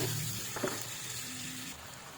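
Soft steady sizzling of sautéing ingredients for sinigang sa miso in a pan, faint and continuous, with a brief stirring clink partway through.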